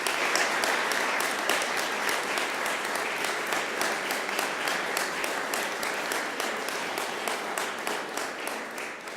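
An audience at a classical festival concert claps to welcome an accordion and cello duo onto the stage, broad sustained applause that gradually settles into more distinct, rhythmic claps as it fades slightly.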